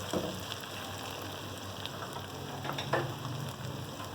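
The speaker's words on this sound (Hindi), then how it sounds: "अब इसके अंदर में 1 टीस्पून मैंने ये सौंफ ली है, ये मैं डाल दूँगी। थोड़ा सा भून लेंगे।" Fennel seeds fry in a pot for chana pulao, giving a soft, steady sizzle with a few faint stirring clicks, close and quiet, with no voices.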